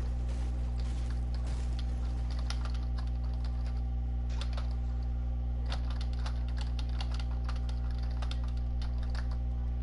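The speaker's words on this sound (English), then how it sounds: "Sorry for the keyboard noise on the back." Faint, irregular keystrokes on a computer keyboard tap in the background beneath a steady low electrical hum, with sparse clusters of clicks spread across the stretch.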